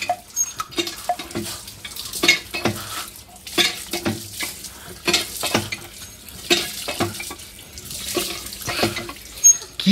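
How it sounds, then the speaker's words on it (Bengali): Water from a faucet splashes into a sink in irregular, gurgling bursts, close by and moderately loud, with scattered knocks and clatter mixed in. No one speaks. "আমি কল টিপে দিচ্ছি।"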